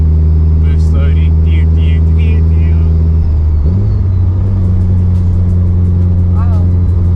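A built Mitsubishi Evo engine drones loudly under boost inside the car, with a strong low steady tone that shifts as it pulls harder, and people talk over it.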